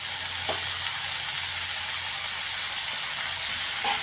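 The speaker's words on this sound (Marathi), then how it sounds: "परत असं हालवून घ्यायचं" Vegetables and soaked masoor lentils fry in a pan, a loud continuous sizzling hiss with a steady low hum underneath and a faint scrape or two of stirring, close and with no talk.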